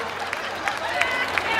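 Audience applause at a town fair show by a cumbia band, a steady wash of clapping and crowd noise with a few sharper claps standing out, moderately loud and continuous.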